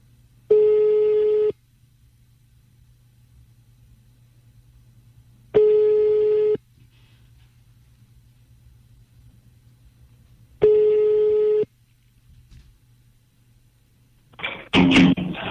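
A telephone busy tone follows a dropped call: three identical loud, clear beeps each last about a second and repeat at even five-second gaps over a faint steady hum, followed by a short burst of rustling noise at the end.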